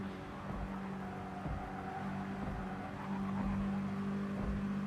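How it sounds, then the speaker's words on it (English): Mini Cooper race cars corner hard in a Mini Cooper Cup race on the Tokyo Central Inner Loop, engines droning steadily while tyres give sustained high squeals that swell and fade across several seconds, with no talk. "You can hear these cars struggling to get around these turns, the tyres calling out in anguish"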